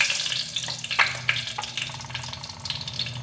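Bay leaves dropped into hot oil in a pan for a Bengali chicken-stuffed pointed gourd dish, giving a soft steady sizzle and crackle with small pops, fairly close and alone.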